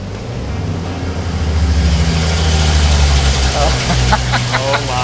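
A Ford 300 4.9-litre inline-six with a turbo runs on a dyno under brake load, its deep engine drone swelling into a loud pull over a few seconds while people talk briefly near the end.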